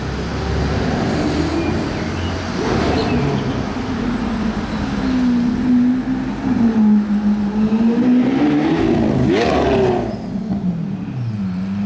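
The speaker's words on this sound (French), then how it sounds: "J'entends une Aventador arriver. Je vous parie que c'est une Aventador ce bruit." A Lamborghini Aventador engine drones and rises in pitch as it approaches in Monaco, loud and continuous over outdoor background noise.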